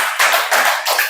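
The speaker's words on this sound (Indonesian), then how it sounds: "Tepuk tangan dulu." A short burst of clapping in a classroom, a few quick claps close by, loud and brisk.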